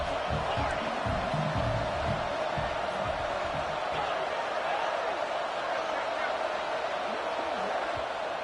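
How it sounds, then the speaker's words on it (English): Football stadium crowd cheering and roaring during a game, a dense continuous wash of voices filling the whole stretch, with a commentator talking over it. "And the crowd coming to life here, trying to help this defense down in the red zone."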